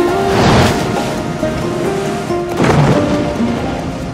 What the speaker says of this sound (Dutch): De immense kracht van de oceaan wordt gedragen door de golven en de getijden